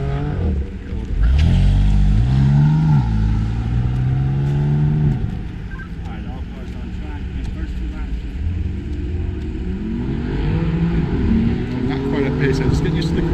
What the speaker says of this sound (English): This is car 3 going into the bus stop there.